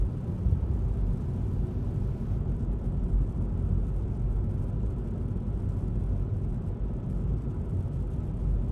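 A car drives along narrow country lanes, and inside the cabin a steady, loud, low road-and-engine rumble continues without a break and with no talk.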